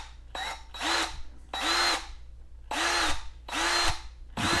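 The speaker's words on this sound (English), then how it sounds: "you can see when you pull the trigger, the brushed motor, you'll see it spark in here" A Craftsman CMCD700 cordless drill with a brushed motor whirs up in five separate trigger pulls, each short burst spinning up sharply, holding, then winding down, close and loud with brief pauses between.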